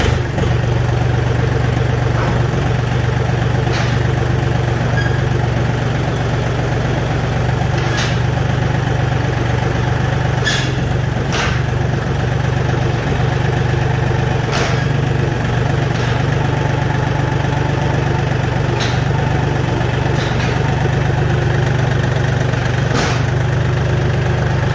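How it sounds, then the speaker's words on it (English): A John Deere tractor engine idles close by with a steady, even low rumble, broken only by a few faint clicks and knocks. "we're back up on the tractor"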